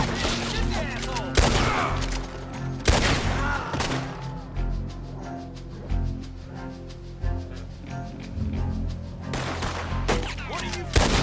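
Gunfire in a Red Dead Redemption 2 shootout: scattered loud gunshots cut through a dense layer of game music and ambience, with several sharp bursts spaced across the stretch.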